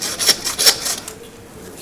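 A saw rasps back and forth against the bone of a 5-bone beef rib, a few quick close strokes in a rough rhythm before fading to quiet.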